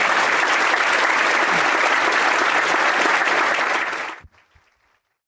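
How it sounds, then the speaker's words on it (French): Audience at a Bible study gathering applauds the sisters: dense, loud clapping that holds steady for about four seconds, then cuts off into near silence with a couple of faint taps. "Un grand applaudissement pour nos sœurs."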